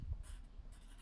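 Pen writing a calculation on paper for a cone-volume maths problem, with soft, quiet scratching strokes close up and no talking.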